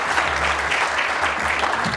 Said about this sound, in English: You can all clap.